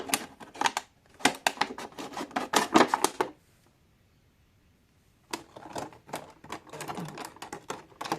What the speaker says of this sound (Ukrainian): далі ножницями обрізаю по кругу